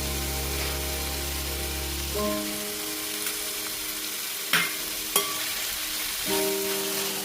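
Onions sauté in a pan with salt for a hotel-style chicken curry, giving a soft, steady sizzle. A low electrical hum drops out early and returns later, and two sharp clicks cut through; no one speaks.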